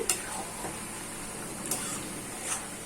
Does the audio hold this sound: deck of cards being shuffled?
no